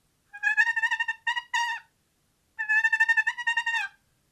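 A turkey purr worked on a wild turkey hunting box call comes as two rolling, fluttering runs of rapid notes with a short pause between, soft but clear and alone.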